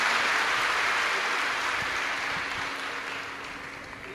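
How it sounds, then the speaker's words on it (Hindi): A crowd at a live Shiv Mahapuran katha gathering gives dense applause to welcome the host family. The clapping is loud at first, then slowly fades over a few seconds. "एक बार यजमान परिवार के लिए जोरदार ताली बजाकर स्वागत"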